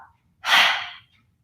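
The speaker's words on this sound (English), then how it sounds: "Inhale, gaze up, and exhale, chop." A single sharp, forceful exhale during a yoga wood-chop movement in an Ashtanga flow, a short breathy burst of about half a second, close and clear.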